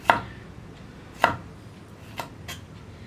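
A knife cuts through ivy gourd (kovakka) on a board, giving four sharp, close chops spaced unevenly over a few seconds, the first two louder than the rest.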